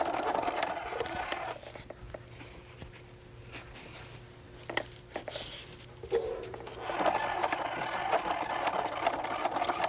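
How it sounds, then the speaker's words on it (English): A sewing machine top stitches through fabric and vinyl, its motor running in a steady close whir that starts and stops, pauses, then resumes at a louder pace. "And then I'm going to top stitch this."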